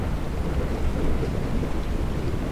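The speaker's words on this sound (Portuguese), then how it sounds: "ainda tá chovendo de relâmpago pra ajudar" A steady, dense roar of heavy rain with low rumbling thunder underneath, continuous and loud throughout, from a thunderstorm in the horror video game Pacify.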